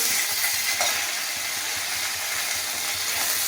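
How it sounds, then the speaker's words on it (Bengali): Steady, crackling sizzle of onions frying in a pan, with soft stirring scrapes underneath, continuous and close. "এদিকে পেঁয়াজ ভাজছি, মাংস করবো বলে পেঁয়াজটা ভালো করে ভেজে নিই।"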